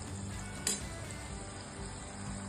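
Tomatoes being sautéed in a pan for dhaba-style paneer bhurji, a soft steady sizzle with one faint stirring clink, quiet and without talk.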